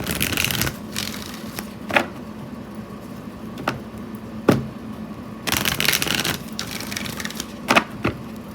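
Oracle cards being shuffled by hand in several short riffling bursts with quiet gaps between them, close and moderately loud.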